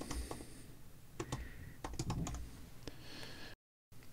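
Quick bursts of computer keyboard typing while a file is renamed on a Mac, a soft scattered clatter of keystrokes heard close and faint, ending in silence.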